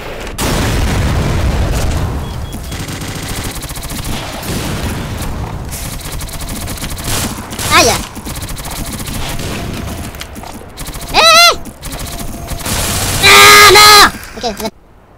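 Rapid turret gunfire and booming explosions in Black Mesa rattle on continuously, with a few sharp electronic zaps and chirps near the end.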